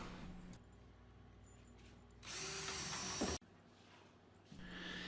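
A power drill bores holes in wood while a garden bench with a hidden storage compartment is being assembled, one loud whirring burst of about a second close by, set between quieter background noise.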